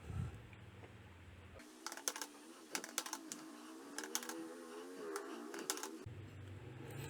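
Data goes into an Excel spreadsheet through a computer keyboard: scattered close key taps and clacks in irregular bursts, quiet and alone, with a hum before and after.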